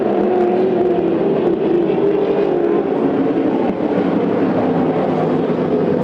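A sprint car accelerates at Coos Bay Speedway during a Western Sprint Tour race, its engine a loud, continuous roar that holds steady for several seconds, with no voices over it.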